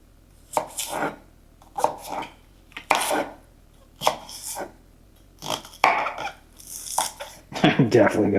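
Vegetables being chopped with a knife for a spicy Asian vegetable soup: a series of separate, sharp cutting thuds on a board, spaced irregularly about a second apart, then quicker strokes near the end.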